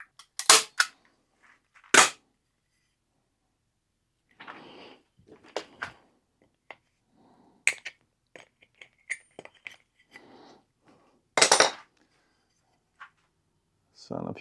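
A staple gun firing small staples while building a little free library, giving sharp, loud snaps, a couple early and another later, between quieter clicks and handling noises, with someone talking in between.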